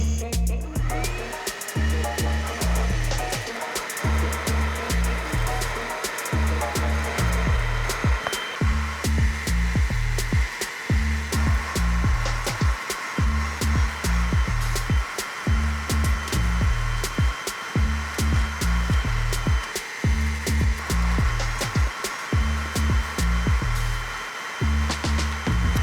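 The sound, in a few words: wet vacuum cleaning camper van interior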